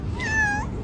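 A single cat's meow, rising and then falling over under a second, close and clear with faint background noise.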